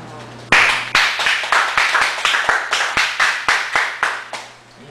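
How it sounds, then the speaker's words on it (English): Steady rhythmic hand clapping from an audience at a poetry reading in a Chicago cafe, loud and close, a run of about a dozen even beats that fades out at the end. "You want to save the applause till the end? Save the applause."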